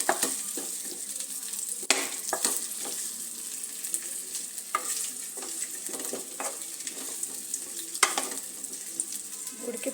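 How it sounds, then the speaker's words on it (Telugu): Sweet potatoes frying in ghee in a pan, a constant close sizzle broken by scraping stirs and occasional knocks of a wooden spatula against the pan. "ఉడికిపోతున్నాయి నెయ్యిలో."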